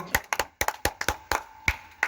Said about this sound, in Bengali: একটা জোরে সোরে হাততালি দিচ্ছে মিস্টার আমানুল্লাহ সরকারের জন্য।